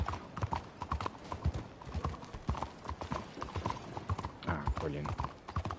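Horse hooves clip-clop in a steady walking rhythm in the video game Red Dead Redemption 2, continuous and fairly close, with a voice briefly talking over it.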